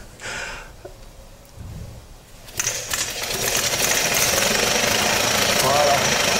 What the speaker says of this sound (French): Voilà, donc c'est tout le moteur qui tourne.